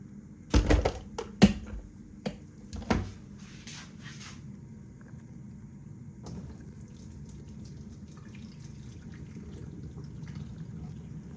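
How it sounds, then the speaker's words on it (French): Water emptied out of a freshly descaled kitchen appliance: a few sharp knocks and splashes near the start, then a steady low pouring and trickling wash that runs on quietly, with no talk. "Maintenant, j'ai plus qu'à vider l'eau."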